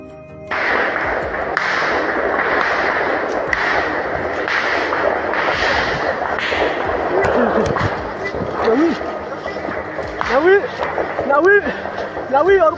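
Gunfire exchange in a jungle between security forces and armed rebels in Papua: a dense run of sharp cracks and thuds for several seconds, with speech layered over the shooting near the end.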